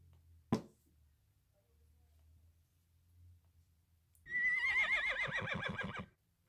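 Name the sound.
horse neighing, from a toy animal sound box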